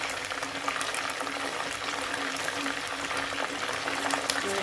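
Chicken pieces coated with potato and soybean fry in hot oil for a Lombok nasi balap dish, producing a dense, steady crackling sizzle that is loud and continuous, with no talk.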